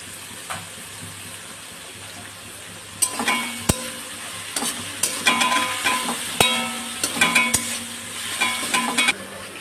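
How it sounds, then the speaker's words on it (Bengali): Onion frying in a pan beside potatoes, a continuous sizzle punctuated by sharp scrapes and clinks of a spatula stirring, growing busier in the second half. "পেঁয়াজটা এরকম মোটামুটি লাল লাল করে ভাজা হয়ে গেল।"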